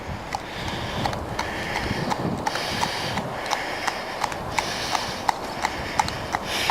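Horse hooves clip-clop at a steady walking rhythm on an English country road, with gusty wind noise on the microphone and no talking.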